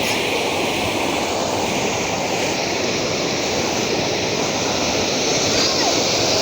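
A river flows past a riverbank with a loud, steady rushing roar of moving water that stays continuous and even throughout, with no distinct voices.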